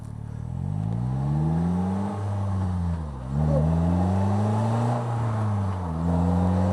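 A Polaris Slingshot pulls away in first gear. Its engine drones loud and close, with the pitch climbing and dipping as it accelerates and shifts over several seconds. No one speaks.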